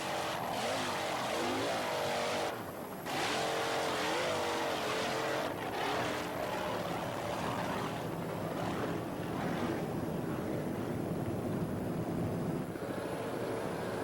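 Offshore racing powerboat, a 26-foot Avanti with a single 400-horsepower Mercury motor and Mercruiser outdrive, roaring steadily across open water at a 1992 shootout race, loud and continuous with slight pitch wavering.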